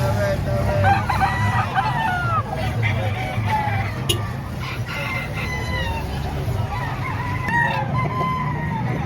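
Roosters crow repeatedly amid clucking fowl at a busy chicken market in Padre Garcia, Batangas, over a steady babble of people talking nearby.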